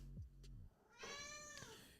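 A pet cat meows close by indoors, a low short call followed by a longer, clear drawn-out meow, with nobody speaking.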